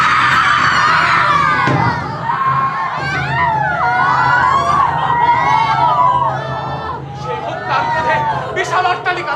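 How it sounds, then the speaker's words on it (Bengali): Crowds scream in a burning city in a film scene, a dense, loud wash of overlapping shrieks and cries with a siren-like wail running steadily underneath. "মানুষের চিৎকার।"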